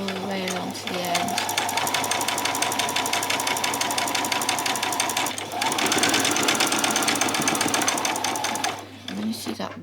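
Sewing machine stitching a bodice seam, a fast steady mechanical chatter running almost continuously, pausing briefly midway and stopping near the end, with a person talking over it.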